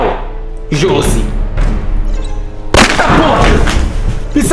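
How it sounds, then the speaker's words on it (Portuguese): Gunshots, a few loud sharp reports with ringing tails, one especially heavy blast near the middle, heard indoors at Christmas time while voices talk. "Isso é tiro"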